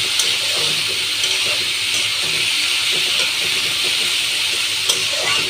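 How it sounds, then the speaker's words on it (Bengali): Dried fish with potatoes and onions frying in a pan, giving a steady bright sizzling hiss with small crackles throughout, while a person speaks over it. "এই যে এভাবে শুটকিটাকে আলু পেঁয়াজটাকে আমি ভেজে নিলাম।"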